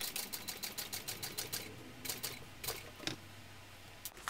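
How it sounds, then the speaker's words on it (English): A sewing machine runs two rows of top stitching on a waterproof canvas Park Mini Backpack, with quick, even bursts of stitching followed by a few isolated clicks and a brief pause. "I think I will do two rows of top stitching on this."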